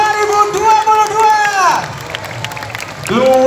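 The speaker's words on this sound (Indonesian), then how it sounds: "Beri tepuk tangan yang meriah untuk penampilan Teatrikal Parade Juang" A street crowd at the 2022 Parade Juang in Surabaya cheers and applauds a theatrical performance, with loud sustained whooping voices over a bed of clapping and crowd noise.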